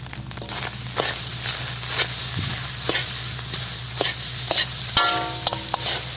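Chicken fried rice made with basmati rice being stirred in a pan at a roadside stall, with a steady rhythm of scraping strokes over a constant frying hiss and a low background hum, no voices.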